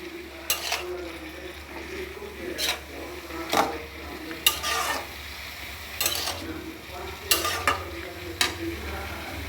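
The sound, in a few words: stirring ash gourd frying in a pan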